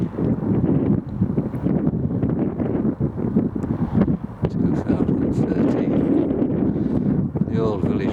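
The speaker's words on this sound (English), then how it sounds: "It's quite windy here." Strong wind buffets the microphone outdoors on the Wilton Castle Estate near Redcar. It makes a continuous low rumbling roar with gusty surges, and a voice may be faintly present under the noise.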